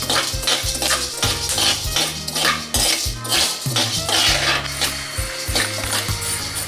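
Horse gram and lentils being roasted in a pan over low flame make a busy, continuous scraping and clattering as a spoon rubs and taps the metal, close and fairly loud, with no talking.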